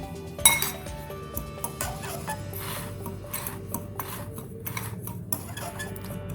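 Bread crumbs, flour, salt and chili powder being stirred together in a bowl for a chicken coating, giving a steady soft rasping and scraping with light clinks of utensil against the bowl, close and without speech.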